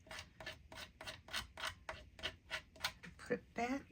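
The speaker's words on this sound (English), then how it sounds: "I just want to scrape some of this off." Excess paste scraped off a tool onto scrap paper while making a stamped birthday card, a series of about a dozen short rasping strokes in a steady rhythm, close by, with a voice speaking over the last strokes.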